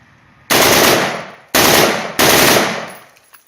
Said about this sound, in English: I'm going to show you how to bump fire this without it being a bump fire stock